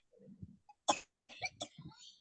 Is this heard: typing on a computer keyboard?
no